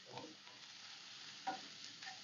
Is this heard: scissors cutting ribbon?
no